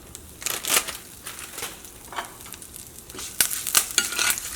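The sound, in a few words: mustard seeds spluttering in hot oil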